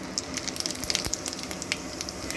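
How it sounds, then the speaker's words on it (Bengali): A quarter tablespoon of white cumin seeds sizzles in hot oil in a pan, giving a soft, steady frying hiss with scattered faint crackles and pops, close but quiet. "এর মধ্যে আরও একটু তেল দিয়ে দিচ্ছি তেল দেওয়ার পর এর মধ্যে দিয়ে দিচ্ছি ওয়ান ফোর্থ টেবিল চামচ সাদা জিরে ফোড়নে"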